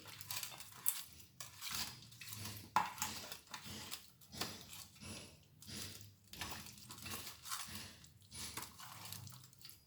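Rohu fish is mixed in a bowl with fish masala marinade, giving soft, irregular squelching and scraping that repeats steadily, close and fairly faint, with no talking.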